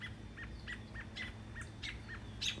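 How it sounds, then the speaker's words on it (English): Robins chirp in a garden with short, bright repeated calls in a steady rhythm, moderately distant over a low outdoor hum. "I don't know if it's robin mating season, but I have lots of robins."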